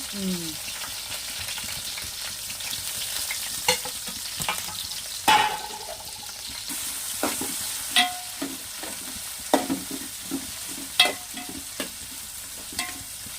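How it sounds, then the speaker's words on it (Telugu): Onions and green chillies fry in hot oil in a steady, close sizzle, punctuated every second or so by the scrape and clink of a ladle stirring the pan, with no clear talk. "గోల్డెన్ బ్రౌన్ కలర్ వచ్చే వరకు వేపాలి"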